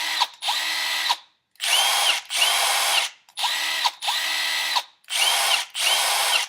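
A Milwaukee M12 Fuel stubby impact driver runs in repeated bursts, each a harsh, loud hammering whir lasting about a second, separated by short silent gaps, close and alone with no voices.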